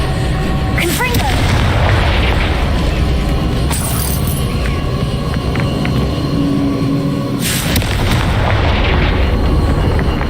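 Booming fire-spell blasts in Hogwarts Legacy crack out against rocks, with loud bursts near 1, 4 and 7.5 seconds over a dense rumbling game soundscape, and a voice shouting the incantation.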